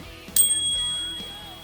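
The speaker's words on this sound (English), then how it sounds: "It also comes with a bell." A single bright bell ring from a Lectric XPedition cargo e-bike's bell, sharp metallic strike with a sustained shimmering tone that slowly fades, heard alone and close.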